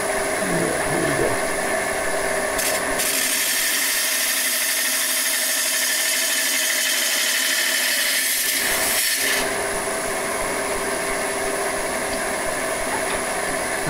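Wood lathe taking a finishing cut on a lamp base, a steady loud broadband hiss and whir of the gouge against spinning wood running continuously, with a brief shift near the end.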